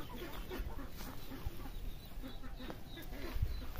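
Newly laid-in hens of a bred native chicken line cluck softly in a farm area, with scattered short clucks and light ambient noise around them.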